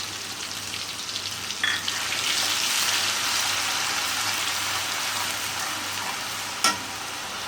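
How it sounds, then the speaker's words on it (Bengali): Blended green chilli and onion hit hot oil for biryani, producing a loud, bright frying sizzle that swells after a clatter and stays steady, with a sharp clank near the end. "এখন আমি কাঁচামরিচ আর পেঁয়াজ ব্লেন্ডার করে রাখাটা দিয়ে দিলাম।"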